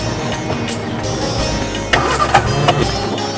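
Car engine with a dirty carburetor cranking and sputtering without catching, a loud close churning that surges and falls in short bursts.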